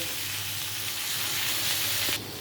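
Capsicum frying in a pan gives a steady, dense sizzle close up, unbroken throughout.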